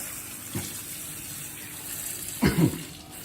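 Gentle tap water runs softly while raw fish is rinsed in a home kitchen: a steady low hiss, broken by two brief clunks of handling, one light and one louder.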